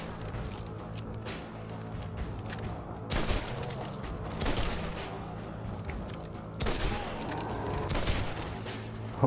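Repeated gunfire in Red Dead Redemption: Undead Nightmare, loud sharp shots in irregular bursts over a dense background of game ambience and music, several heavier volleys standing out.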